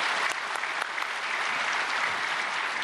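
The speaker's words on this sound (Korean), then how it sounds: "김효건 목사님 나오실 때 큰 박수로 환영해 주시기 바랍니다." A congregation at a prayer meeting for peaceful reunification gives a pastor a warm round of applause, a full, even wash of clapping that holds steady from start to finish with no talk over it.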